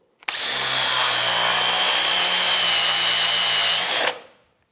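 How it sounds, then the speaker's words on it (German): A power drill bores into wood and is levered sideways to carve a pocket hole, giving one steady, loud, high-pitched whine with a grinding edge for about four seconds before stopping abruptly. "Einer der Tests war, dass wir hier reinbohren und den Bohrer dann einfach zur Seite drücken, sozusagen ein Pocket Hole machen."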